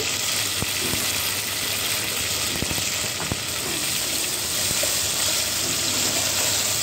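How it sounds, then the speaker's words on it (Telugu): Onions, green chillies, coriander and mint frying in a pan give a steady, close sizzle with a few sharp clicks and scrapes of stirring, no voices. "కొత్తిమీర, పుదీనా కూడా వేసుకొని కొంచెం సేపు ఫ్రై చేసుకొని"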